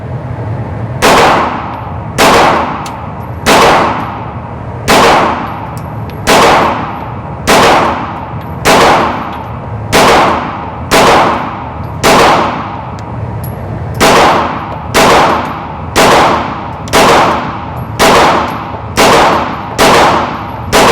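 Ruger American pistol fired on a shooting range with a 17-round magazine: roughly sixteen sharp, loud, close reports spaced about a second apart in a steady, deliberate rhythm, each ringing briefly before the next.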